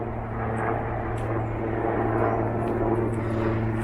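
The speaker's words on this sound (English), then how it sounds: "A helicopter. I've been seeing a lot of helicopters the past few weeks" A helicopter flies overhead, its steady engine and rotor drone forming a continuous low hum with constant loudness throughout, no voices present.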